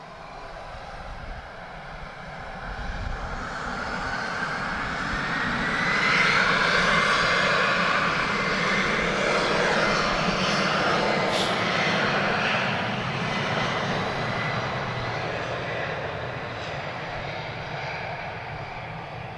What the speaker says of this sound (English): TP1452 off to Marrakesh. Embraer E195.